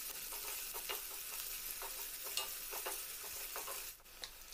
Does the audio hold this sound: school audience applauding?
no